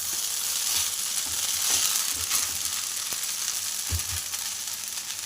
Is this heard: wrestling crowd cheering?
no